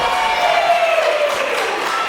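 A live wrestling crowd at a WrestleForce show in Newmarket cheers and applauds after a huge rana, a loud, sustained roar of voices and clapping that fills the hall.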